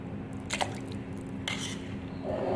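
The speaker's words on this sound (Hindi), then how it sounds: "देखें मैं स्पून की मदद से इसमें क्यूब्स ऐड करूंगी" Mango cubes spooned into milk, a few soft wet plops and squishes, close and fairly quiet against a low background hum, with no talking.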